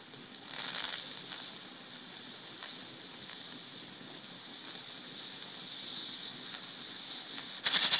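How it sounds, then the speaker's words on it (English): Steady hissing and bubbling of water boiling inside a pressure canner, a continuous close rush that grows slightly louder toward the end. "Water's boiling."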